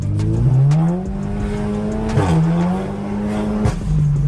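A tuned Seat Leon Cupra built to 400 horsepower drives past close and loud, its engine note rising and falling through gear changes with a brief tyre-squeal-like edge and no talking.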